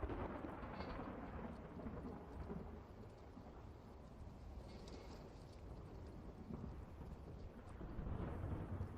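Rolling thunder with steady rain noise as background ambience for a tabletop role-playing game, a continuous low rumble swelling slightly toward the end, distant and fairly quiet, with no voices.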